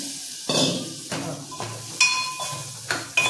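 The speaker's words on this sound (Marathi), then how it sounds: "बटाटे घालायचे फोडणीला" Potatoes hit hot tempering oil in a pan, bursts of sizzle followed by a few clanks and stirs of a spoon against the pan.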